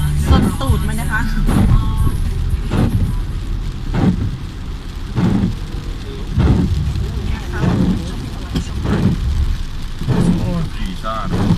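Rain falls steadily on a car being driven home on a dark, wet evening, a dense continuous patter and hiss with recurring louder gusts, while someone talks over it.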